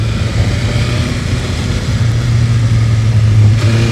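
A BMW S1000RR motorcycle engine pulls hard at full throttle, a steady loud droning roar with a low pitch holding near and continuous, rising slightly toward the end.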